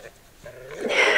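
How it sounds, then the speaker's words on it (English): Dogs at a snowy Alaska homestead give a short yip or bark that rises quickly and sits close and fairly loud, with no voices alongside. "The dogs."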